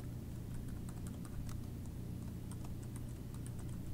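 Fingers tap out a folder name on a computer keyboard: a quick irregular patter of light key clicks, close and quiet, over a low steady room hum with no voices.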